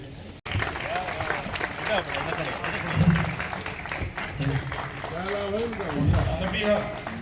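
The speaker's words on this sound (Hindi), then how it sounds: "हाँ जी, अब तालियां बजती रहे।" Applause from an audience at the grand opening of a play school, steady clapping running through most of the stretch with a voice speaking over it.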